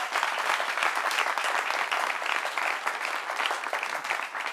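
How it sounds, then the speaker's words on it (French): A studio audience on a French-language talk show gives steady, dense applause from many hands, evenly sustained at moderate volume. "Applaudissements pour vous-même, chers amis."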